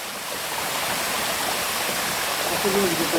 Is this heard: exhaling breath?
no